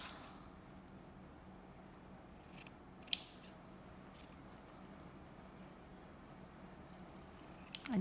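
Scissors trimming fabric around a needle roll, with two faint, brief snips in an otherwise quiet room.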